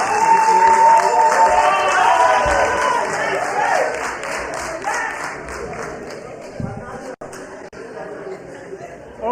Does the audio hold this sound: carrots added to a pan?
no